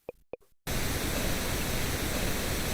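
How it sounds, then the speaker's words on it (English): A pink noise test signal used in mixing and mastering, a steady, even broadband hiss that switches on suddenly after a couple of brief clicks and holds at constant loudness. "So there's just going to be pink noise"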